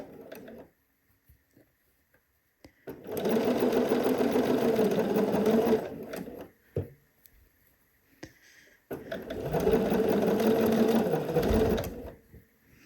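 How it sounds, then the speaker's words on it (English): A sewing machine stitching around a dress neckline runs in two steady, loud bursts of several seconds each, separated by a pause with faint handling noises. "So we are just sewing all the way around the neck."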